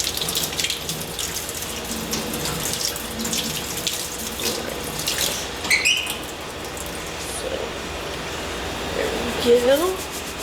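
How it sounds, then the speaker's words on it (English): Water runs steadily from a sink tap while quinoa is rinsed, with someone talking now and then and occasional splashes and clatter. "So I'm gonna rinse this in the sink over here."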